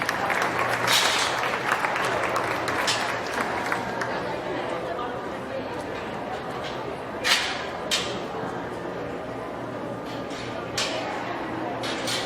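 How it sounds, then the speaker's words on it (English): Crowd at a county fair swine show breaks into applause after a class of pulling gilts, clapping strongest at first then thinning into chatter and murmuring voices with a few scattered claps. "Give them a nice round of applause if you could."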